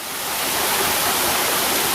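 The Si Lan waterfall pours down over rocks, a loud, steady, unbroken rush of water that fills the whole moment with no voices.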